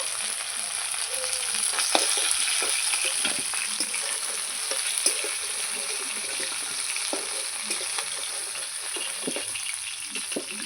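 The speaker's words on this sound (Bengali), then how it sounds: "এগুলো লাল লাল করে ভেজে নেব" Pieces of bhetki fish sizzle steadily in hot oil, a dense crackling hiss with scattered sharp pops and occasional stirring clicks running for the whole stretch, close and fairly loud, with no voices.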